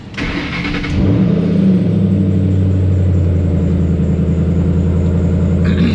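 A manual-transmission car with a cold engine starts up and settles into a loud, steady idle, close by, with a brief rev and clunk at the start and no talk.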